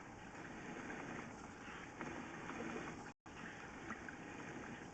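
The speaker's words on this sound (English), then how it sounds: "And it's all draining well." Water drains through an old concrete pipe, a steady rushing gush with a trickling texture, constant and fairly loud, briefly cut out once near the end.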